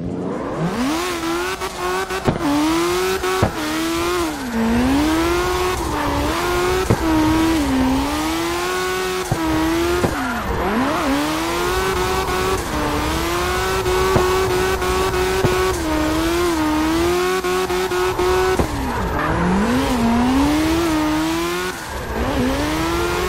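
Classic JDM cars drift around the East Togue mountain map in CarX Drift Racing Online, with engines revving high and wavering continuously, tires squealing, and loud throttle sweeps rising and falling throughout with no pauses.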